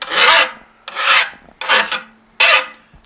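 A file rasps along a chainsaw chain on the bar in four evenly spaced, close, harsh scraping strokes with short pauses between.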